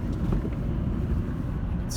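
2008 Ford Ranger XLT two-wheel-drive pickup with a five-speed manual and 147,000 miles, cruising in fifth gear: a steady low engine and road drone with wind rumble, continuous and even throughout.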